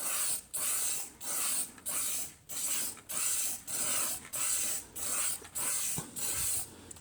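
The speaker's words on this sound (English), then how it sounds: "keep a good distance so that everything gets sprayed evenly" Oil rubbed bronze spray paint hisses from an aerosol can onto switch covers in about ten even bursts with short pauses between, close and fairly quiet with no talking.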